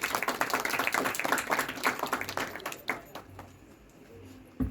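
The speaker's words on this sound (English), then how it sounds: "let's give a big round of applause for AI Group." An audience at an Indian school project presentation on space research breaks into applause. Many hands clap densely at first, then the clapping thins out and fades to a quieter room.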